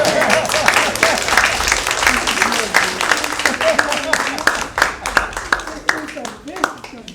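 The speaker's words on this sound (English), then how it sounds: "Let's give her another round of applause." A room full of people claps for a guest at an IT Bookman gathering, giving another round of applause. Dense, fairly close clapping with sharp individual claps standing out, mixed with crowd voices and tapering toward the end.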